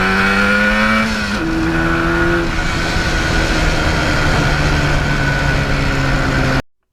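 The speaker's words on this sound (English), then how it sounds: "the sound of that engine and all the rattling going on and the smell of the two-stroke oil" A 1977 Yamaha RD400 two-stroke motorcycle engine runs steadily with a loud, buzzing drone, its pitch shifting once early on, with rattling mechanical noise throughout, then cutting off abruptly at the end.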